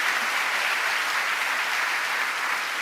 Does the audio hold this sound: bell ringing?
no